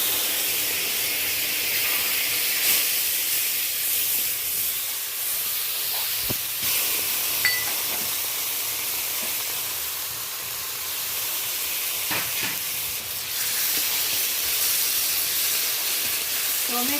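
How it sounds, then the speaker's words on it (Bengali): Nigella seeds dropped into hot oil for tempering sizzle with a continuous close hiss, interrupted by a few faint clicks and pops. "ফোড়নের জন্য ছোট চামচের 1 চামচ কালো জিরে ফোড়ন দিলাম।"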